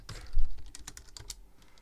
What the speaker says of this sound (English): And I'm going to call it, I'm going to write James Holbrook